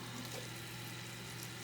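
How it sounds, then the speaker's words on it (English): Water poured into a small bowl, a steady faint trickle and splash running continuously at close range with no talk. "I put some water in this bowl"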